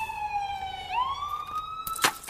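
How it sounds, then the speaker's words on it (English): An ambulance siren wails nearby, a single steady tone that dips and rises again, ending with a brief sharp noise burst. "Starting with the ambulance that's just over here."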